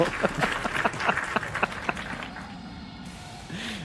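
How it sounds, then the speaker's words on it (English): A short canned round of applause sound effect played during a PC-build livestream, dense clapping for about two seconds that quickly fades, with a brief tonal swoop at the end. "can we get that round of applause sound effect for Paul and his purchase from Target?"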